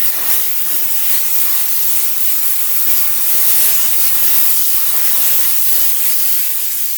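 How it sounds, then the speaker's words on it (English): A Chief Steamer 125 PSI steam cleaner sprays steam with chemical injection onto a car door jamb, a loud continuous close hiss that holds steady, slightly rough, with no pauses. "we're simply going to turn our steam on with a little injection"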